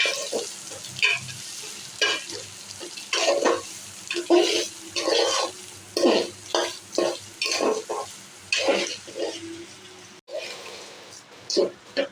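Raw rice grains frying with already-fried potatoes in a pan for Bengali basanti pulao, a close sizzle broken by repeated stirring scrapes and utensil clinks in uneven bursts, with occasional talk.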